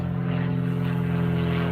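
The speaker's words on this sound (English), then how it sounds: "Excuse the plane as it flies over." Steady low droning engine of a propeller aircraft passing overhead, continuous and fairly loud with no talking.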